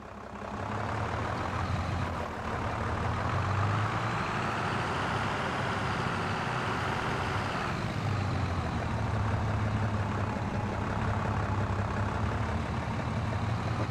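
A tractor engine in a farming simulator game strains under load with a steady, droning low rumble that holds continuously close by, with no talking over it.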